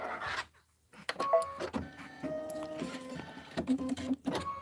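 Quilting machine stitching a quilt, a close motorized whir with shifting tonal hums and short clicks, starting after a brief silence and running with small pauses.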